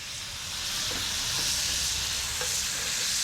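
Steaks sizzle while cooking in an Ooni Koda 16 gas-powered pizza oven, a steady, close, bright frying hiss with a low flame roar beneath. It holds at an even level throughout, with no voices.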